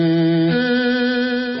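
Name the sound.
organ through fuzz box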